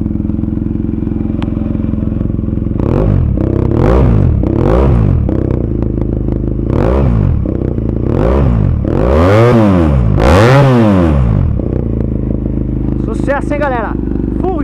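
BMW F800R motorcycle with an Akrapovic exhaust and Atalla header, the parallel-twin engine idling loudly and steadily close by, then blipped repeatedly in sharp revs with rising and falling pitch.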